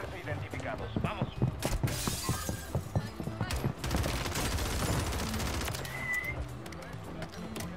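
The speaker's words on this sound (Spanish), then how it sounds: "Le dispara a través de la escalera, seguro." Gunfire in Warzone 3, rapid bursts and single cracks at close to mid range mixed with clattering, mechanical clicks and shattering, with voices talking over the shooting.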